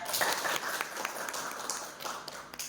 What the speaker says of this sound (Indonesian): Tepuk tangan bagi semua ya.